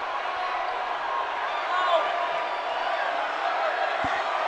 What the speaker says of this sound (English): There's the massing crowd.